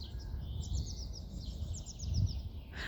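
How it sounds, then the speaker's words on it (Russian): Small birds sing outdoors in a village garden on a damp spring day, with bright repeated chirping phrases in two bursts. Low steady rumble sits underneath. "слышно, птички поют."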